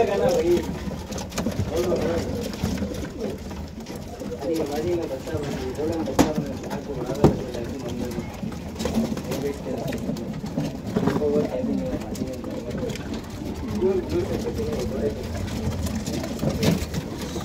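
Old-line breed pigeons in Bangalore coo steadily and close by, their soft repeated calls layered over someone talking throughout and a faint engine-like hum in the background.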